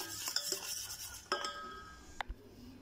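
Eggless cookie batter whisked in one direction in a bowl, soft rhythmic scraping with a few clinks of utensil against the bowl, quiet and close, no talk.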